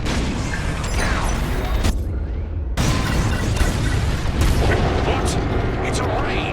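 Bombs burst one after another during a Star Wars Squadrons bombing run, dense rumbling booms and crackle filling the mix with a brief lull near two seconds, while voices talk over the din.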